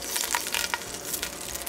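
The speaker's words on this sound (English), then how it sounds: "And you can hear that sizzling. That means it's up to the temperature." Meat sizzles in hot oil in a pan while a ragu is being made, a close, crackling hiss with sharp spitting pops scattered through it and no one talking.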